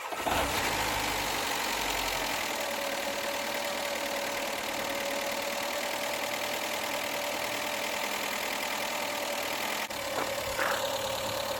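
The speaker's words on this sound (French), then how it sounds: "je vais garer une autre voiture à côté et je vais la démarrer avec la batterie" Car engine running steadily after a jump-start from another car's battery, the original battery being flat; a continuous, fairly loud idle drone with a faint whine, with no voices.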